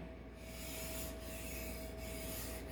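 A fish fillet knife is drawn across a wet whetstone in a steady, close rasping scrape. The strokes are even and continuous, broken only by brief pauses.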